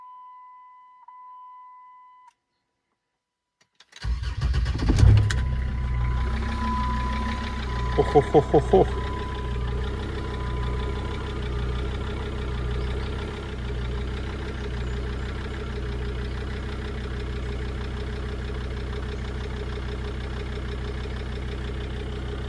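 A Jeep Grand Cherokee 2.7 diesel with a straight-pipe exhaust cranks and fires after a short silence, then settles into a steady, deep rumbling idle with a faint whine, close and fairly loud, with a brief spoken imitation before it starts.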